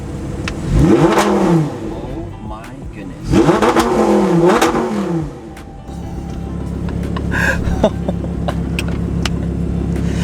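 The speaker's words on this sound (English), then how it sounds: "This sounds amazing. Let's get some revs." A powerful engine revs hard twice in long, rising roars, then settles into a rumbling idle while a person exclaims briefly.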